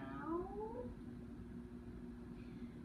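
A single drawn-out meow, voiced by a person imitating a cat, sounds briefly over a steady low hum, then fades to quiet.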